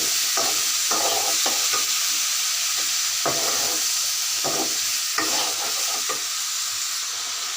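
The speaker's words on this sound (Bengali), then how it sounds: "এখন আমি ভালো করে এটা কষিয়ে নেব।" Pumpkin pieces and shrimp are stir-fried in a hot pan: a continuous loud sizzle is broken by repeated spatula scrapes and stirring strokes in an uneven rhythm, with no voices.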